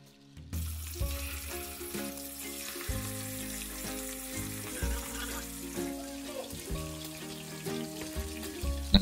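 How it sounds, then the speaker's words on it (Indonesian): Boiled beef fries in a pan for Indonesian dendeng balado, a steady close sizzle running throughout with light stirring and clatter, and a tonal music bed playing over it. "Selanjutnya kita goreng daging hingga agak garing."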